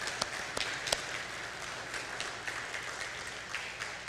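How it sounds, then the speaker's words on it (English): Church congregation gives the tech team a round of applause, a faint, distant spread of clapping with a few sharp nearby claps over a low room hum. "Can we give them a round of applause?"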